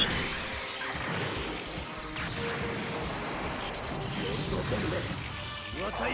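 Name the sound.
car being smashed in a video game cutscene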